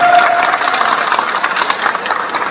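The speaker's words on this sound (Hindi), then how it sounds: "एक बार जोरदार तालियों से आप।" An audience at a Hindu religious gathering breaks into loud, dense applause, a close, busy wash of clapping that holds for a couple of seconds.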